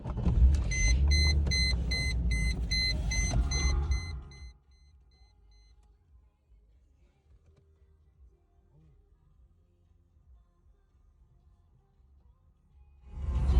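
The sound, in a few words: Mercedes SL500 R129 car driving on first ride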